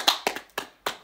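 Four separate, close hand claps from a single person at a ranking announcement during a live stream, sharp and evenly spaced about a third of a second apart, with no talk over them.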